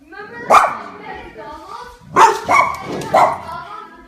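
A dog barks a few times, sharp and close, with short pauses between barks and some whining.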